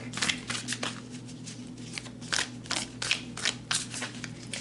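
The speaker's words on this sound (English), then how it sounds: "let me get these shuffled" Tarot cards are shuffled by hand in a string of quick, crisp riffling bursts, close and fairly quiet, with no talking.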